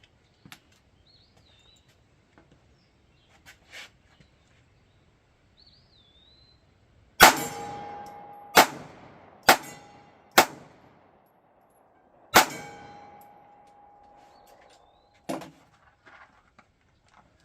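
Five sharp metallic clangs from a Ruger Max-9 pistol firing at a steel target, spaced roughly a second or two apart, each ringing briefly with a sustained tone, in an otherwise quiet outdoor setting with faint birdsong.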